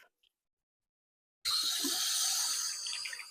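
A tap runs water over hands to rinse off a sugar scrub, starting abruptly after a silent pause as a steady, close hiss of flowing water that continues to the end.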